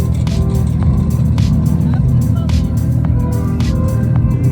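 A one-owner 1988 Mazda B2200 pickup truck runs with a steady low engine hum close by, over a busy background of faint clicks and knocks.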